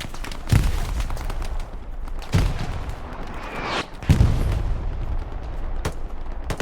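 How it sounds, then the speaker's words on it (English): Artillery shells land in a Hell Let Loose multiplayer battle, with three heavy booms spaced a couple of seconds apart over a steady bed of distant gunfire and rumble. "Now with a little bit of artillery support on the point proper, Hugo's farm, infantry has a chance of breaking in."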